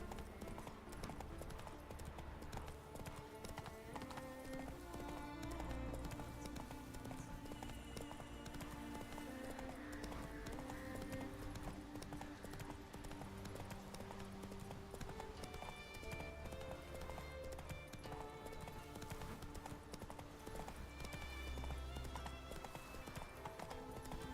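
Roach the horse trotting in The Witcher 3, steady clip-clop of hooves running continuously under game music and ambience, with an occasional whinny and voices talking now and then.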